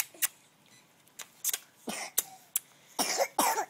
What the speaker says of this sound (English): you could send him a cough?